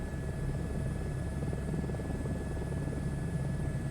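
An Airbus H125 helicopter flies in Microsoft Flight Simulator 2024, giving a steady, dense rotor and turbine drone with a low throbbing rumble and a thin whine on top, constant and close throughout.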